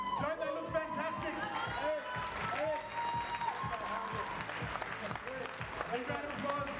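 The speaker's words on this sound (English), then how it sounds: "A round of applause" Audience applause with cheers and whoops at a bodybuilding competition after the top six are announced, clapping and crowd noise at moderate distance with a voice speaking over it.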